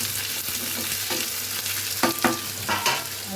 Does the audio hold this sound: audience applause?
no